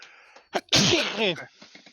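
A single loud, close sneeze bursts out after a short sharp inhale, followed by faint trailing breath and quiet vocal sounds.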